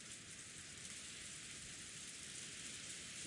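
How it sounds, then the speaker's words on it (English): Steady, even rain falls endlessly in the Golden Land, a soft continuous hiss with no breaks or voices. "In the Golden Land, the endless rain continued to fall."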